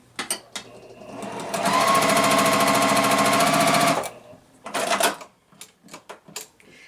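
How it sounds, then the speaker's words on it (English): A sewing machine stitches quilt pieces together in one steady rapid whirring run of about two and a half seconds, close and loud, framed by short clicks and handling knocks before and after. "So I'm going to take these pieces to the sewing machine and start sewing them together."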